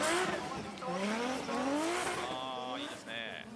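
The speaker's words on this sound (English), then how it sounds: "There you go, up a gear." A drift car at the D1GP round at Autopolis revs and shifts up a gear, engine pitch climbing, dropping and rising again alongside tire squeal, heard under commentary.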